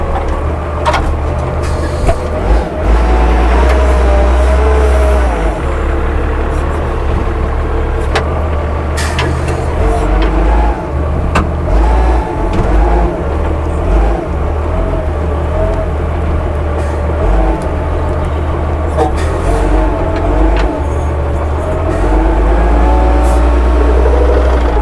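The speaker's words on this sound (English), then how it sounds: "Kevin's going to get the old forklift in here" An old forklift driven into a shop, its engine a loud continuous low rumble and drone that holds steady close by throughout.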